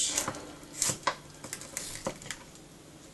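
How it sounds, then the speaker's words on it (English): Corned beef being cut into cubes on a board in a home kitchen, a series of sharp, irregular knife taps spaced about half a second apart, close and fairly quiet with no talking. "I'm going to start chopping the corned beef into cubes."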